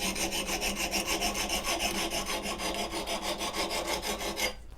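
An axe being sharpened with a jig: a steady run of about twenty quick rasping file strokes in an even back-and-forth rhythm, close and loud, stopping abruptly at the end.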